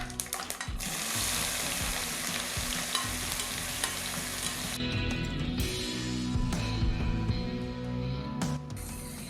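Onions frying in sesame oil with mustard seeds and urad dal, for tomato chutney, a loud close sizzle and crackle with stirring, easing into softer, uneven bubbling and spatter toward the end.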